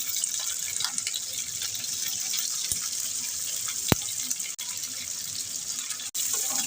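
Chopped onion and garlic frying in hot oil for a restaurant-style chili chicken, a steady broad sizzling hiss held throughout with a couple of brief sharp clicks, no talk over it.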